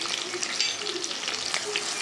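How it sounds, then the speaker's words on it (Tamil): Onions and curry leaves sautéing in a pan for an idli kurma, a soft, steady sizzle with light crackles, close and continuous with no voices. "நல்லா வெங்காயம் போட்டு நல்லா ஒரு மைல்டு கலராக வர மாதிரி வதக்கிக்கலாம்."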